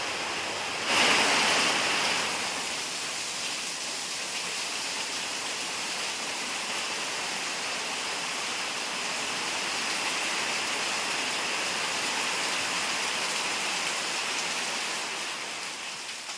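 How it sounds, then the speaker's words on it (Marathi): Steady, dense roar of heavy rain drumming on a tin roof, continuous and unbroken throughout, with no voices. "आता जरा आपण वाट पाहूयात की पाऊस कमी होतोय का"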